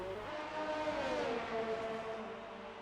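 Race cars in a racing video game at the Belgian circuit, a Ferrari pushing a rival down the straight, their engines a sustained droning whine that rises and bends in pitch, fairly faint.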